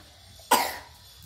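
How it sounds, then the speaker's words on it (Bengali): A child gives a single short, sharp cough in a quiet indoor room; it rises abruptly and fades within a fraction of a second over faint background hum. "কাশি হচ্ছে?"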